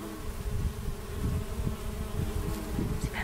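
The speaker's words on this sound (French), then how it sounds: "on laisse les petites abeilles butiner tranquillou" Bees buzz steadily over the Valensole lavender fields in Provence, a close, continuous hum with an outdoor background and no talk.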